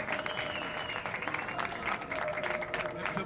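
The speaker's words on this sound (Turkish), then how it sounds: "Kocaman bir alkış." Applause and crowd noise from an audience, steady throughout, with a voice carrying over the clapping.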